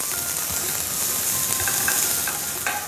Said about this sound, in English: So once the oil gets heated, add onions to this.